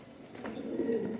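Kaasni pigeons coo softly nearby, a brief low murmuring call rising and falling over about a second, faint and alone.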